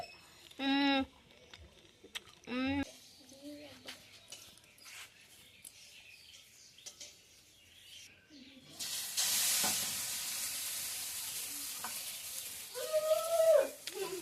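Food frying in a kadai wok gives a steady loud sizzle and hiss that starts partway through and continues to the end, with brief high voice-like calls heard before and near the close.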